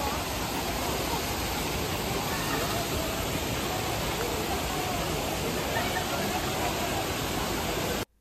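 Dharamattam waterfall pours over rocks in a loud, constant, broadband roar that fills the scene evenly for about eight seconds, then cuts off abruptly.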